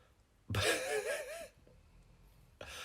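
A single raspy, wheezing snore, about a second long and fairly near, rising and falling in pitch over a quiet background before a second breath begins.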